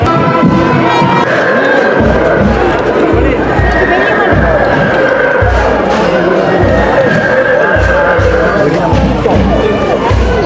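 Horses with yellow-lit trappings pulling the temple deity's vehicle during the Nallur temple festival, their hooves clopping in a steady rhythm beneath dense crowd chatter and cheering throughout.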